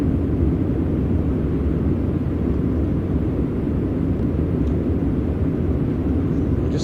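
Simulated Boeing 747 jet engines during a test flight in Microsoft Flight Simulator X, a steady loud broadband roar that holds constant for the full stretch with no voices.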